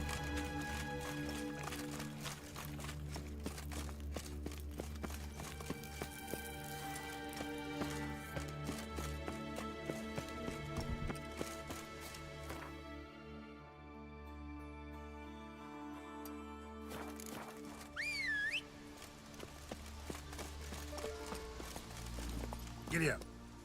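A horse in The Witcher 3 gallops with rapid, continuous hoofbeats over a game soundscape with music, while a faint whinny-like call rises briefly near the end.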